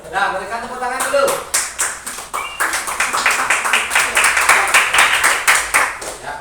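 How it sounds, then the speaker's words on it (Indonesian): A school class claps together, starting with scattered claps and a voice, then settling into loud rhythmic unison clapping close by. "berikan tepuk tangan dulu"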